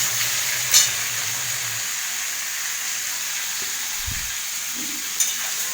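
Onion, garlic and ginger fry in a pan, giving a steady, even sizzle with a high hiss throughout, a couple of light clinks and stirring scrapes, and no talking.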